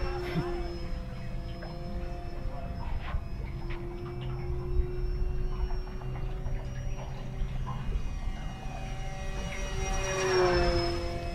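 An FMS Super EZ V4 1220mm radio-controlled airplane flying overhead, its motor a thin, steady whine that shifts in pitch during turns and grows louder near the end, with someone talking at times.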